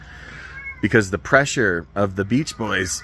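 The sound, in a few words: cat meowing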